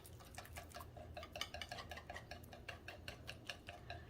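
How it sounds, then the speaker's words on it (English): A whisk clicks quickly and rhythmically against a bowl while salad dressing is mixed, a light, even ticking close by and fairly quiet, with no talking. "We are gonna whisk this together."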